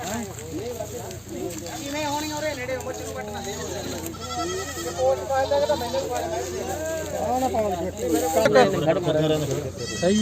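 Goats bleat repeatedly, several animals close by calling over one another at a Punjabi goat market, while people talk steadily underneath.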